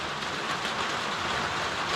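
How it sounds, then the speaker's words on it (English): Steady rain falls on a trail during a bikepacking ride, a dense, even hiss of drops hitting the ground and gear, close and constant with no speech. "Oh, the rain is not letting up."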